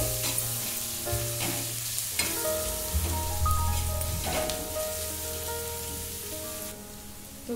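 Onions fry in hot oil until golden with a constant crackling sizzle and occasional stirring clatter, close up, while background music with sustained tones plays underneath.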